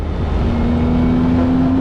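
Maserati MC20 engine revving toward its near 8,000 RPM redline, a loud, close, sustained rising engine note climbing steadily in pitch.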